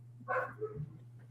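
One faint dog bark sounds in the background, short and distant over a low, steady hum.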